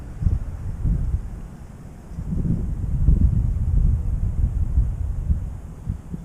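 Outdoor wind buffets a microphone in low, rumbling gusts that swell and ease over several seconds beside a camp spirit stove setup.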